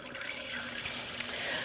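Water runs steadily from a tap into a sink inside a mobile home, a continuous hiss and splash lasting throughout with no talk over it.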